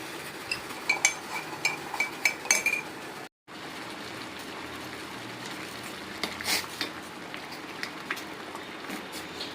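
A spoon clinks and scrapes against a pot of simmering corn silk tea with ginger and cardamom, light metallic taps in a loose rhythm, broken by a brief silent cut.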